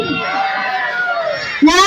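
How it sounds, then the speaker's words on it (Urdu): A crowd gathered for an Eid Milad-un-Nabi celebration at a madrasa answers a takbir chant in unison, a loud, dense chorus of voices that swells sharply near the end. "نعرے تکبیر"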